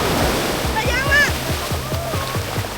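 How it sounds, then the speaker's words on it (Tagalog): Ocean surf at a beach resort in Dingalan, Aurora rumbles and washes steadily throughout, partly masked by a rhythmic tapping and people talking close by. "Grabe yung alon."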